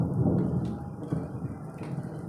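Softer thunder rumbles low and steady during a village storm with light rain falling, a continuous distant roll with no talking.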